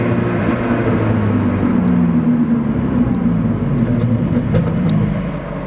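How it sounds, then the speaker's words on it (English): A loud, sustained car engine drones under hard acceleration as the turbo spools, a dense close roar that holds steady and eases off slightly at the very end. "love the turbo noise. It just doesn't get old."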